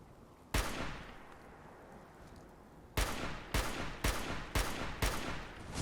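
An MG42 machine gun in Fallout 4 fires loud, sharp shots: one crack, a pause with a ringing tail, then four evenly spaced blasts in quick succession, close and dominant with no talk.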